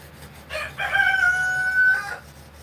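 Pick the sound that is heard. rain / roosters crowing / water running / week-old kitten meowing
roosters crowing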